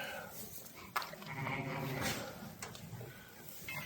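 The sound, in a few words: sheep (ewes) bleating in the barn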